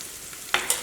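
Onions sautéing in a pan with fish masala and turmeric give a low, steady sizzle, broken near the end by two short scraping stirs against the pan.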